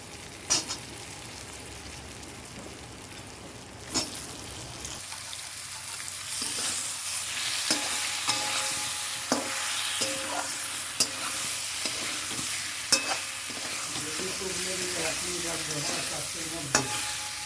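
Boiled potatoes are stirred into onions already fried with salt and turmeric in a home kitchen: steady frying sizzle with repeated scraping and clacking of the spoon against the pan, close and fairly loud, with no talking.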